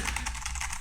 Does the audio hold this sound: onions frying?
no